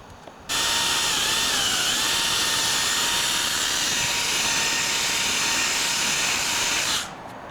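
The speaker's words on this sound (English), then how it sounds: "We're going to drill that out and then put a new one in." A power drill bores out a part on a Porsche 944 Cabriolet convertible top. It gives one loud, sustained whine that starts abruptly, holds a steady pitch with slight wavers for about six seconds, then winds down.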